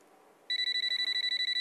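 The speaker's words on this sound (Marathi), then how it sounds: "मला फोन येतो, मी नंतर बोलते." A telephone starts ringing in an office after a quiet moment, a rapid electronic trill of evenly pulsed bursts, bright and close, continuing to the end with no talking over it.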